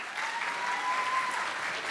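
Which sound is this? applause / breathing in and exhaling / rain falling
applause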